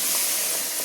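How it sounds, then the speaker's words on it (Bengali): Onion-tomato masala water hits hot fried chicken in a pan for Chicken Changezi, giving a loud, steady, broadband sizzle and hiss that holds evenly without pause. "সেই মশলা জলটা আমি দিয়ে দিলাম"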